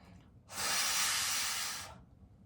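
Breath blown onto a tarot deck to clear it, one steady airy whoosh lasting about a second and a half, close and soft, in a quiet room.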